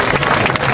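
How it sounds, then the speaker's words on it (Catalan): A crowd at a local festival applauds festival participants, a loud, dense burst of clapping heard close and continuous for a moment. "les aplaudirem una miqueta tots ells"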